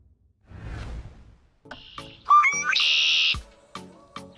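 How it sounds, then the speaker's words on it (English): A red-winged blackbird gives a short rising whoosh, then a loud buzzy, trilling call with a few clicks around it, heard fairly close with nothing else around. "Red-winged blackbird."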